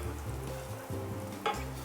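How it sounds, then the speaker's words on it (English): Silken tofu slides into boiling gravy in a pan, a quiet, continuous bubbling sizzle with a soft splash partway through. "Now that it's boiling, we're going to slowly, carefully slide this silken tofu in."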